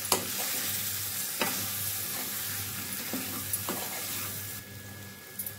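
Brinjal curry with chili powder stirred in a pan, a steady sizzle broken by a few spaced scraping strokes of a spoon, close and moderate in level, no voices.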